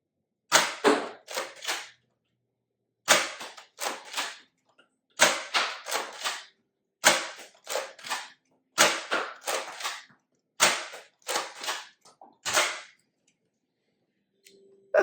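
A Nerf Elite 2.0 Lock and Load blaster firing elite darts in sharp, close snaps, several shots in quick bursts separated by short silences, with clicks of priming between them.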